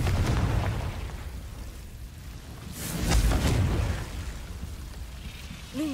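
Confringo fire spell blasts in Hogwarts Legacy, a few booming explosive bursts with rumbling low end, loudest near the middle, over game ambience.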